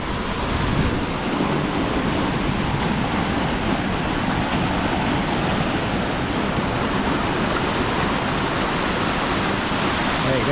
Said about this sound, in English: Got a big old waterfall over there.